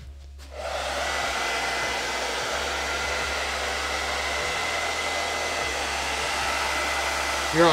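A hair dryer runs steadily at close range, drying chalk paste on a craft project, with a broad constant airflow roar and a low motor hum that swells briefly near the end.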